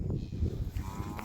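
Galloway and shorthorn cattle out-wintering on a farm give low, soft moos from a short distance, a couple of quiet lowing calls against a faint outdoor background.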